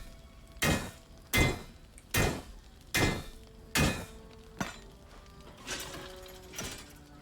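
A hammer strikes repeatedly in the Baldur's Gate video game, eight sharp metallic blows at a steady rhythm, the later ones softer and followed by brief ringing tones.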